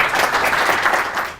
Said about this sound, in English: May I please have a huge round of applause for Jim Harrowell.